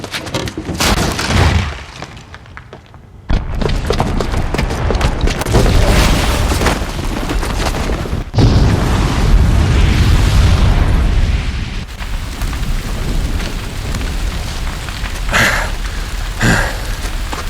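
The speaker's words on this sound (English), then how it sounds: "the booby trap on the bomb downstairs is gonna get set off" Bomb explosion in Horizon Zero Dawn: a heavy, sustained roar of blasts and rumbling debris fills the whole stretch, with several sudden booming surges and a crackling, rain-like spray of falling rubble.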